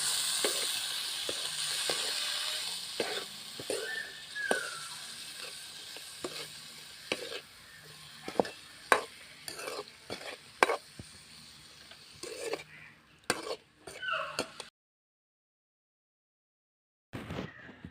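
Homemade Kerala-style mango pickle being stirred and turned in a pan, with steady sizzling broken by repeated sharp scrapes and clicks of a utensil against the pan, then brief silence near the end.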